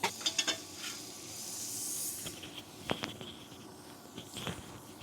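A knob of butter sizzles and hisses softly in a frying pan at dusk beside a 1998 Land Rover, with light stirring and scraping sounds and a few clinks against the pan, and no talk.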